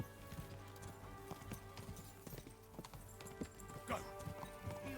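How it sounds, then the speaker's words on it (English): Horses gallop in a rapid clip-clop chase through a medieval Bohemian countryside in Kingdom Come Deliverance II, hoofbeats steady and close amid game music, with a brief whinny near the end. "Oh, not a horse chase."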